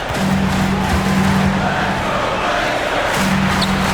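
Basketball arena crowd in NBA 2K26, a loud dense roar of cheering and noise filling the whole stretch with a sustained horn-like tone in places.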